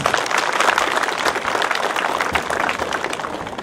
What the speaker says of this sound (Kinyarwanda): Twagira ishingiro twese turi hano tumuha amashyi menshi cyane umwubaho wacu.